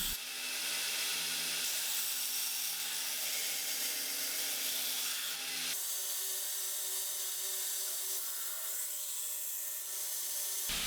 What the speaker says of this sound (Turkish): Kırk kumluk seramik zımparada bıçağı ağız açıyorum.